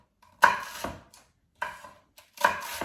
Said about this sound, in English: I'm just going to cut some wonderful soldiers